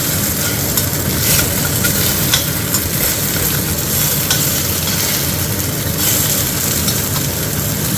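Food grilling on a busy, crowded market stall, a steady broadband sizzle and hiss running continuously at fairly loud level with a low background rumble and no clear voices over it.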